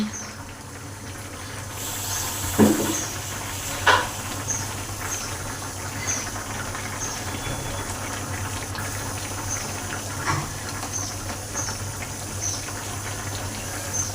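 Bengali bata fish curry simmers in a pan, a continuous soft bubbling and sizzle with a few brief louder pops and clinks, close by and steady.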